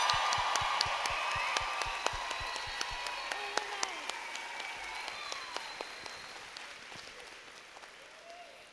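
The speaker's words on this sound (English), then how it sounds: "How about a loud round of applause for all the graduating Latina students from California" A crowd at a Latina graduation ceremony for California State University, Fullerton students claps loudly, with crisp individual claps over a continuous wash of applause that slowly fades, plus a few cheers and voices.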